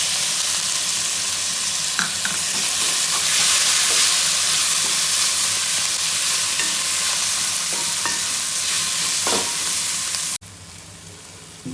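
Chopped tomatoes hit hot oil in a pan for chicken fry piece biryani, sizzling loudly and continuously while being stirred, then the sound cuts off abruptly near the end.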